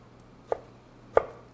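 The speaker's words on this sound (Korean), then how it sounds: "이렇게 썰어 주시면 돼요." Two sharp knife strokes on a cutting board, spaced about half a second apart, chopping food for a traditional Korean royal tteokbokki dish; quiet background, no voices.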